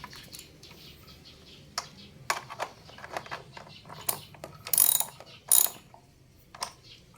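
A socket wrench ratchets to tighten a bolt during a solar energy setup, with short bursts of clicking pawl sounds separated by pauses, close and fairly crisp over a faint background hum.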